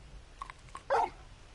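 A big dog in the video game Final Fantasy XVI gives a single loud, close bark after a few faint, muffled sounds. The bark is brief and stands out above a quiet background.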